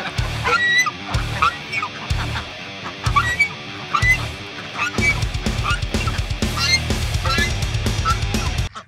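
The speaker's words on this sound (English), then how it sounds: "I love harassing the goose." A goose honks loudly and repeatedly in harsh, nasal bursts close by, with overlapping calls and agitated squawks filling the whole stretch.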